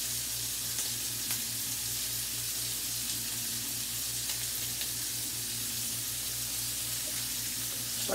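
Continuous close sizzling and frying in a pot of lentil soup as hot pepper is added, a steady hiss with faint stirring clicks and a low rhythmic hum underneath.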